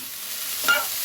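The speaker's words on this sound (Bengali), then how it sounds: "আবার একটু নাড়াচাড়া করে নিলাম।" Greens stirred in a hot pan, a brief steady sizzle with one soft scrape of stirring, close by and alone.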